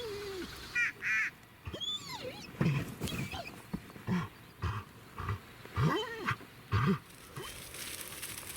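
Large flock of ducks over a wheat field during a hunt, with repeated loud quacks and honking calls in bursts across the clip over a steady outdoor background hiss.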